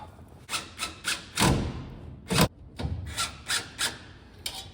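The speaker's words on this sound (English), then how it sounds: "let's get the rest of the screws in" Screws driven into the weather strip rail of a 1969 Pontiac Firebird, heard as a run of short rasping, rubbing bursts with a few heavier thuds, close and fairly quiet.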